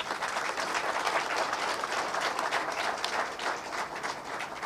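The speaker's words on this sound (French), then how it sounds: "méritent véritablement nos applaudissements" Sustained applause from an audience at a ceremony honouring retiring agents of ONAS, dense steady clapping filling the whole stretch with no voices over it.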